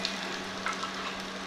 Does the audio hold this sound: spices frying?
yes